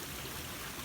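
A river near Bowden Bridge on Kinder in the Peak District, giving a faint, steady rush of flowing water with no voices.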